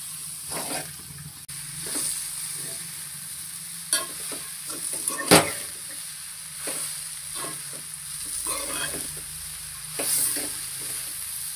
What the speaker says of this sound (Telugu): ఉప్పు వేసి కలుపుకోవాలి.